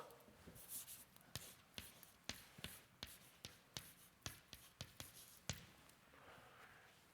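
A formula is written on a board during a mathematics lecture, heard as a series of sharp, evenly spaced taps and scrapes of chalk or marker, faint and close, with no voices.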